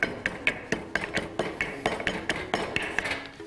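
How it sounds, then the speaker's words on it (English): Coriander root and coarse salt are pounded in a mortar and pestle with steady, evenly spaced thuds and hard clinks, about three or four strikes a second, loud and close, with no voices. "I'm gonna throw that into the old mortar and pestle, or your mini food grinder if you have one"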